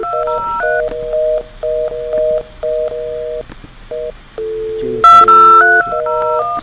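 IP phone keypad dialing an extension, a rapid series of clear DTMF tone beeps in an irregular rhythm, with faint handset sidetone and background hum between presses, close and loud.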